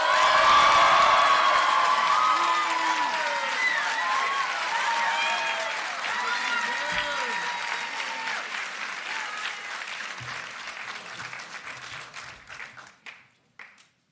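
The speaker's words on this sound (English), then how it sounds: "So please, give a round of applause to the class of 2024's valedictorian, Frank Liu" Crowd applause and cheering at a high school graduation convocation, loud at first with whoops and shouts over dense clapping, then tapering off into scattered claps near the end.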